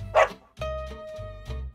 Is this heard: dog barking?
yes